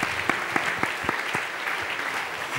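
Audience applause for a science slam speaker, a steady dense clatter of many hands filling the room with a few sharper claps standing out, no voices over it.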